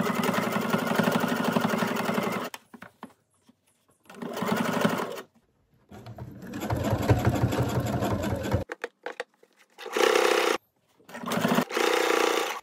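Sewing machine stitching the side seam of a pair of shorts, running in several loud close bursts of rapid mechanical whirring separated by short pauses.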